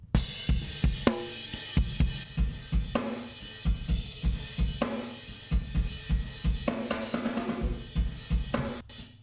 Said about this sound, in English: Let's have a quick listen to how this sounds with this reverb on.